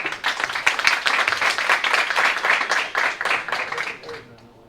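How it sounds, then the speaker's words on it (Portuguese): A round of applause for Luísa at an evening meeting on São Paulo's 2023 master plan, lively clapping from a room of people that thins out and fades in the last second. "E uma salva de palmas para a Luísa, gente."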